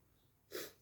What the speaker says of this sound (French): Je sais pas ce qui me fait éternuer, si c'est l'odeur du papier, l'odeur de la colle